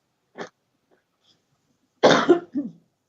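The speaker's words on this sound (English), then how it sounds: "I just want to cough again." A short, isolated cough, then after a pause a louder burst of two or three harsh coughs in quick succession, close and clear.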